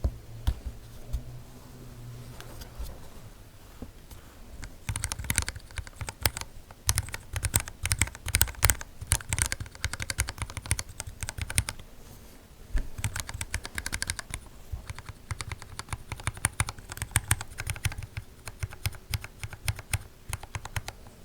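Mechanical keyboard with lubed switches typed on right up against the microphone, starting with a few quiet strokes before bursts of fast, steady clacking that run on, pausing briefly midway before resuming.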